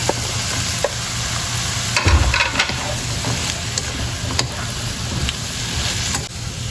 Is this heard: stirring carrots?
yes